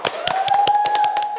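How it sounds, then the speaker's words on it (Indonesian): Clapping at a women's self-worth seminar comes as a run of distinct close slaps in an uneven rhythm over a steady sustained tone, loud and dry. "tepuk tangan semuanya"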